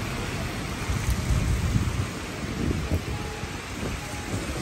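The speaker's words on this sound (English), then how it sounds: "London raining." Steady rain falls on a street in Marylebone, London, in October, a constant wash of broadband hiss with low rumbling underneath, moderately loud and continuous throughout with no talk.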